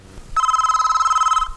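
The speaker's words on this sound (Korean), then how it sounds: "때마침 소영에게서 걸려온 전화." A telephone rings in one sustained electronic trill of about a second, a bright warbling tone that starts abruptly and stops, loud and close, with no talk over it.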